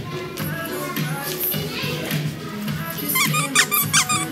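A squeaky toy backpack shaped like a cinnamon roll is squeezed, giving several short rhythmic squeaks near the end, with people talking in the background.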